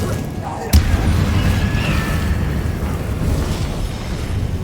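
Confringo and Incendio spell blasts in the Hogwarts Legacy video game: a sharp burst followed by a loud, sustained roaring rumble of fiery explosions, with a voice casting spells over it.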